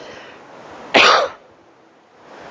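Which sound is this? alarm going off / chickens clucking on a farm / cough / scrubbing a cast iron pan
cough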